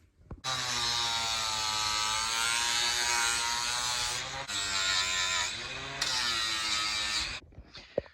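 A power tool cuts back a fork spring bracket for an external-spring front suspension upgrade on a Honda C90, giving a loud, steady whine that runs about seven seconds with brief dips in pitch, and no talking.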